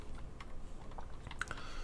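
Fingers tap across an IBM KB 9823 rubber dome keyboard in a quick run of soft, close keystrokes with faint clicks, heard alone at low volume.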